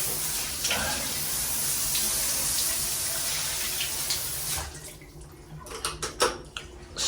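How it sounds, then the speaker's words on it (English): A powerful hotel room shower runs as a steady, loud broadband hiss of spraying water, then breaks into splashing, uneven bursts near the end. "this shower, right, I'm going to demonstrate it. Right, this is super powerful."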